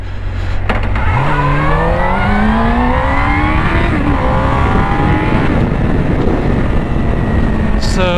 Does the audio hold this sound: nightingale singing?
no